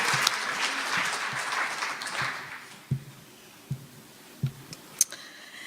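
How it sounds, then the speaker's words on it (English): An audience at a keynote address applauds: a dense wash of clapping that thins out after a few seconds, leaving a handful of scattered, separate claps. "So let's give him a round of applause again for that."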